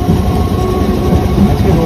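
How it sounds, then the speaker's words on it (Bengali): A train approaching a railway level crossing, a loud, steady low rumble of wheels and carriages filling the short stretch without talk. "এই আসছে ট্রেন।"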